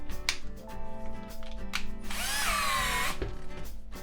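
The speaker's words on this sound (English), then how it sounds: "I'm going to use my left hand to operate the cordless drill because it needs to spin" A cordless drill driving a drill bit sharpener whirs steadily, its motor pitch rising into a loud high whine midway before settling back, with no talking.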